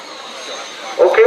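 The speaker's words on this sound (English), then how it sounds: "there's a SR-71 spy plane spying on you right now. It's coming by nice and slow" Electric RC SR-71 model jet with an 80 mm, 12-blade ducted fan flying by at an electric flying festival in Arizona: a steady whooshing fan whine swelling slightly, with a voice breaking in at the end.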